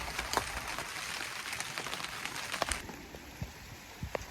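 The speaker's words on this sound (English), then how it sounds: "It's still raining." Rain falling on an allotment garden, a soft steady patter with scattered louder drips landing on nearby surfaces, faint and without any voice over it.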